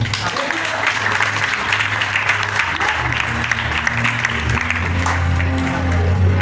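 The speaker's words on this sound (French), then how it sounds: "Applaudissez-moi de ça, non?" A church congregation applauds loudly and continuously, a dense clapping wash over a low hum of voices and music or drone that runs beneath for the whole stretch.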